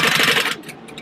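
A sewing machine stitching a clear-front circle bag, a dense rapid motor whir for about half a second before stopping, followed by a few faint light clicks.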